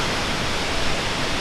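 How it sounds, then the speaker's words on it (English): Roaring Upper Falls waterfall in Yellowstone, heard from the brink as a loud, steady, dense wash of falling water that fills the whole clip with no break. "We're at the brink of Upper Falls, which I think is going to be a huge waterfall"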